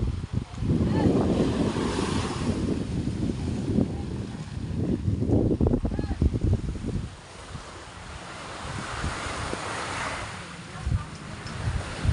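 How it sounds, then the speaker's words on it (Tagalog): Sea waves wash onto a clean white sand beach at a resort in Prieto Diaz, Sorsogon, a loud continuous surf roar with heavy wind buffeting the microphone and a softer lull near the end. "Ayan yung dagat, malinis."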